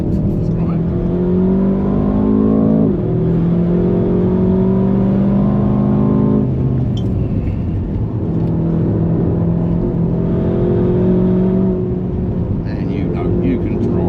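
An Aston Martin DBX707 SUV drives at the Nürburgring, its engine loud and close, with tones rising through gears, a drop and another climb, while people talk over it.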